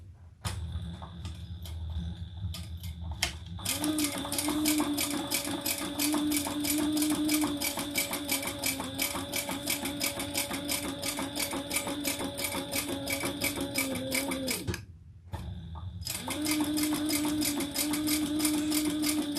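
A sewing machine stitches a row through leather in a fast, steady mechanical chatter. It runs on and on, pauses briefly near the end, then starts again, with no talk.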